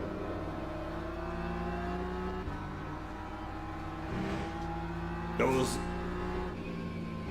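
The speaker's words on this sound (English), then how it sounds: "BMWs have got a grunt to them, don't they?" BMW GT3 race car engines in a racing video game at Bahrain, a steady droning engine note with rising revs and a brief squeal near the end, under continuous commentary.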